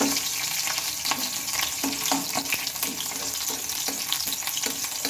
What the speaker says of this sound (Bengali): তেলের ওপরে দিয়ে নেব দু তিন কোয়া মতো গোটা রসুন গোটা রসুনটা দিয়ে নিলাম